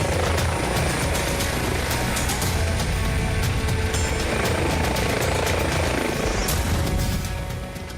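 A London air ambulance helicopter flies close by, its steady loud rotor chop and engine whine continuing throughout before easing slightly at the end.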